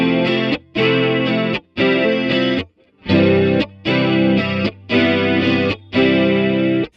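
Electric guitar chords run through a Fromel Electronics Seraph Deluxe chorus pedal set to mode 2. Each chord rings full and shimmering, with short silent gaps between about six strums.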